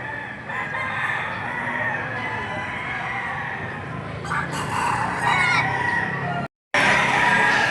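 Gamecock roosters crow and cluck amid the dense, noisy bustle of a livestock auction market, with people talking throughout and one brief dropout of sound near the end.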